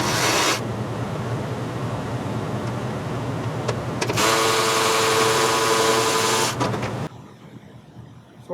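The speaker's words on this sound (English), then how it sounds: "That's where a nice long 1/4-inch ratchet comes in, battery powered" A battery-powered quarter-inch ratchet whirs steadily, backing a bolt out of the front bumper of a 2023 Dodge Charger, running in a long continuous burst with a short pause in the middle, then cutting off into quiet.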